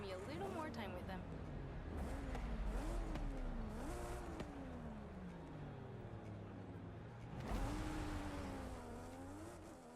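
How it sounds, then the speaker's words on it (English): A Toyota Supra's engine in the racing game Forza Horizon 5 revs up and down repeatedly, pitch sweeping upward and dropping at gear changes, loud and continuous as the car accelerates. "Let's take the Supra out for a spin."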